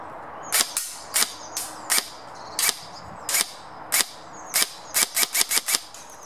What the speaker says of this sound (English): So we're going to do a few shots down range, see where we're hitting